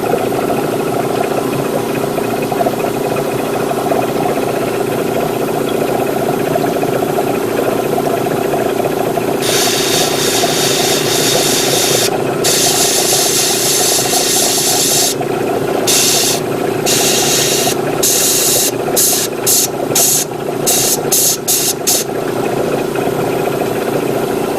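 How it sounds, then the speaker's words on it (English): A steady engine-like drone runs throughout, then from about ten seconds an airbrush spraying paint on a Gundam model kit cuts in with a loud hiss, first continuous, then in short rapid bursts near the end. "spray a blast of air to dry it up a bit, and then respray it again"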